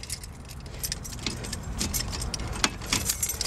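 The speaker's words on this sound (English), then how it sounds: "We got a lot of keys. Let's see which one is the magic key." A bunch of keys jangles and clinks close up at the ignition of a 1969 Camaro Z11 pace car, a busy metallic rattle lasting a few seconds with no talk over it.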